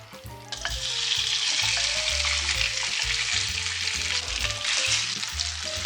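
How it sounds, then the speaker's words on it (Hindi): Chicken pieces fry in a couple of spoons of oil over low heat, a dense close sizzle that swells after a quieter start and holds steady, with faint clinks of stirring and no speech. "चिकन को मैं ब्राउन होने तक इसको फ्राई करूंगी।"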